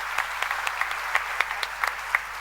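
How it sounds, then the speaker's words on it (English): A church congregation claps for someone after a cake-baking moment, a light scattered patter of hands with a few sharper claps standing out, short and moderately loud. "I think a round of applause for Alex."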